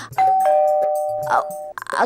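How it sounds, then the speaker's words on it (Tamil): A doorbell rings with a single sustained electronic tone lasting over a second, close by, with brief voices murmuring around it. "காலிங் பெல் அடிக்குது"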